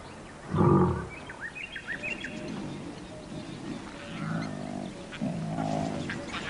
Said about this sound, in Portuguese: Seus rugidos informam aos outros leões que o território está sendo reclamado.